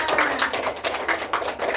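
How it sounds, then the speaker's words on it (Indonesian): Applause from a classroom or seminar audience for Mbak Yuliana, a dense patter of many hands clapping steadily throughout, moderately loud and close, with no voices over it. "tepuk tangan untuk Mbak Yuliana"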